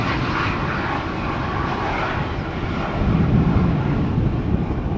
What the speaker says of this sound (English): the first Quad Squad member is going to be the Surinam Airways A340-300